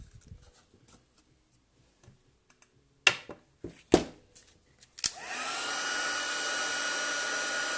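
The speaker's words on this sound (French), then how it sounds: "On peut sortir le sèche-cheveux" After a few soft clicks and taps at a crafting table, a hair dryer switches on to heat embossing powder for a metal-effect finish, then roars steadily and loudly as a close, constant airy whoosh.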